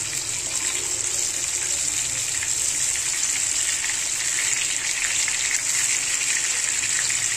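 Bangda mackerel frying slowly in a pan over a low gas flame, a steady, even hiss of oil that holds at a constant level throughout, with no voices.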